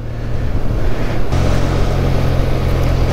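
A Benelli TRK502 motorcycle engine climbs uphill in third gear on a mountain road, its steady low drone running under strong wind rush, rising slightly after a brief dip.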